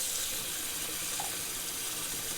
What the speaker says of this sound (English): I'll fill it up just a little bit more.